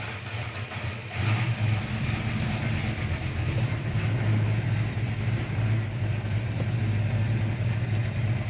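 A 1969 Ford Mustang Mach 1 V8 catches and settles into a steady, rumbling idle with a rhythmic lope, heard close and moderately loud throughout.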